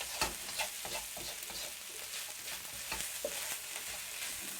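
Rice sizzles and crackles in a hot pan as Indonesian fried rice (nasi goreng) is stir-fried, while a utensil scrapes and stirs it in irregular strokes, close and steady, with no talking.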